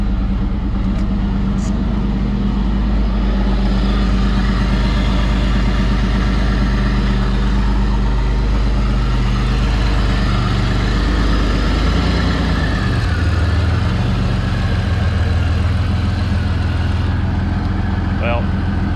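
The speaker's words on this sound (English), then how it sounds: "I can hear this back manifold leaking around the gasket a little bit." A supercharged 3800 engine in a Pontiac Fiero idles steadily for a long stretch, heard close from inside the car, its low even rumble continuous with only slight shifts. The rear exhaust manifold gasket leaks slightly.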